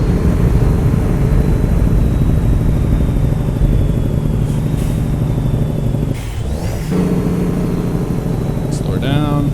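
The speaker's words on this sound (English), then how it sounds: "This thing's got a great sound of Jake brake on it" A truck's Jake brake rumbles loudly and steadily on the road to Cedar City, a dense low engine roar that dips briefly partway through, with a few faint squeaks on top.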